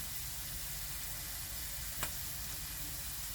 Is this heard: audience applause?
no